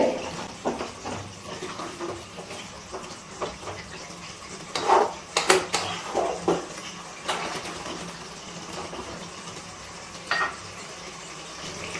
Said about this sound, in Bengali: একটু নাড়াচাড়া করে নিচ্ছি হালকা হাতে